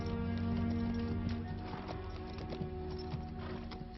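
A horse trotting at an unhurried pace, soft rhythmic hoof clip-clops over a steady low hum and background drone, with no talk.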